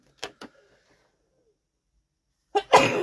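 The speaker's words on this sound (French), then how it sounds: "Oh, je vais éternuer." A single sharp sneeze bursts out close by, preceded by a couple of faint clicks and a long quiet stretch.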